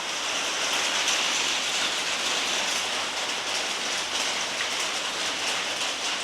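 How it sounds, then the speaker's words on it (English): Heavy rain pours down steadily, a dense hiss of drops hammering a surface, close and continuous without speech. "It's a downpour."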